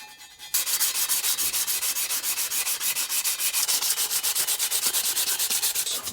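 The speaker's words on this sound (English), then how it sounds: "you really don't want anything harsher than a 240 grit, because the goal here is to not remove any metal, but simply cleaning the surface here" A BMW E36 188mm limited-slip differential's metal mating surface is hand-sanded with 240 grit abrasive, a loud close scratchy rasp in quick steady back-and-forth strokes after a brief quiet start.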